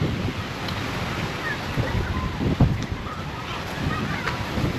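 Strong wind gusting through a rainy storm, a steady broadband roar with rough buffeting on the microphone and a few louder gusts; faint voices sit underneath.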